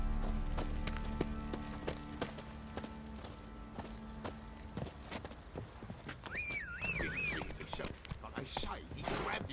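Rhythmic clip-clop of a horse's hooves galloping along in The Witcher 3, steady and fairly close, with game music and ambient tones underneath and a brief whistle-like call near the end.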